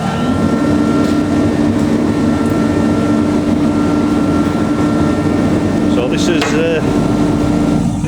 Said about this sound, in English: So we'll turn the machine on.